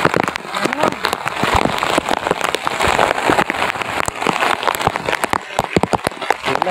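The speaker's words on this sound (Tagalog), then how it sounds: "Nasaldog kami ng ulan." Steady rain falls and drums on nearby surfaces, a dense continuous patter with sharp individual drips and splashes throughout, loud and close.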